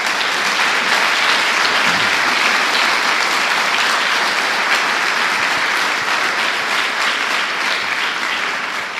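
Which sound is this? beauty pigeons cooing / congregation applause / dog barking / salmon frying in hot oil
congregation applause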